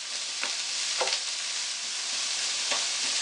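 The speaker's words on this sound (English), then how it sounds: "We're just going to give it a gentle stir, break up the onion, the pepper, kind of a saute if you will." Onion and pepper sautéing in a pan, a steady sizzle and hiss with a few soft scraping strokes of a spoon stirring the vegetables, close and without talk.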